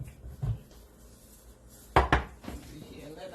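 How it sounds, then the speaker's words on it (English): Pots and metal utensils clank and knock together during rinsing in a home kitchen while a Nigerian fish stew cooks, a few scattered clatters with a sharp double clang near the middle, close and fairly loud. "I will rinse everything now and keep it aside."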